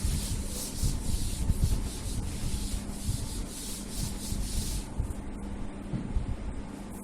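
Steady scrubbing of a duster rubbing out writing on a classroom board during a maths lecture, continuous close friction strokes lasting several seconds with no talk over it.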